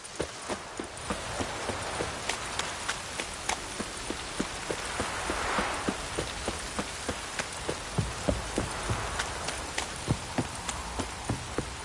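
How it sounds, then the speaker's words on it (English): Heavy rain pouring down in The Witcher 3, a continuous hiss of falling water with a regular clip-clop of horse hooves ticking through it, fairly quiet and steady, with no talking. "This downpour's a bastard,"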